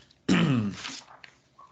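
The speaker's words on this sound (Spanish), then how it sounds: "la tos, que no es coronavirus, ¿verdad? Me está molestando." A man gives one harsh throat-clearing cough close to the microphone in a quiet room, followed by a couple of softer small rasps trailing off.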